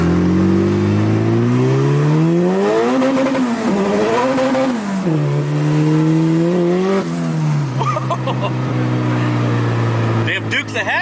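Turbocharged B20 VTEC engine in a Honda Del Sol revs up and down through several gear pulls while driving, loud and close, with harmonic sweeps rising and falling and a rough, strained note near the end.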